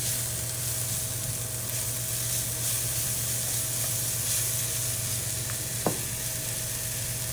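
Spices sizzle steadily in hot oil, a constant close frying hiss with a low hum underneath and one brief clink near the end.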